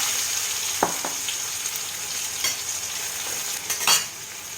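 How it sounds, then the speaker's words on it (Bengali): Fried bitter gourd is stirred into a sizzling fenugreek seed tempering in hot oil, with steady frying hiss and several sharp spatula scrapes, close and loud, no talk. "ফোড়নটা ভাজা হয়ে গেছে আমি আবার করলা ভাজাগুলো দিয়ে দেবো"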